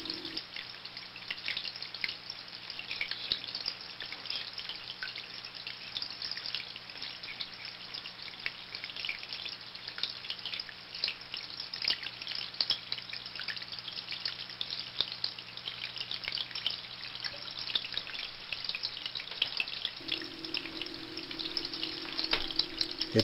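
Water from an aquarium drip system flows into the tank through a charcoal canister, making a steady soft trickle with light dripping patter and a faint constant hum underneath, unbroken throughout.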